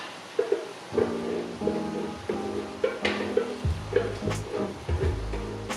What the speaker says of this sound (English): I'm going to add this tomato on the potato, then they can cook together